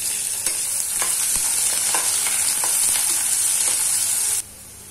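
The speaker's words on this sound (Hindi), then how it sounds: "कटे हुए प्याज, बारीक कटे हुए लहसुन। अब इन्हें अच्छे से हम फ्राई कर लेंगे।" Chopped onion and finely minced garlic fry in a pan with a steady, bright sizzle and scattered crackles and pops, close and fairly loud, easing off near the end.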